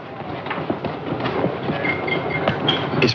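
A passenger train running on rails in the 1972 film Horror Express, steady rhythmic clickety-clack of the wheels with occasional faint squeals, loud and continuous.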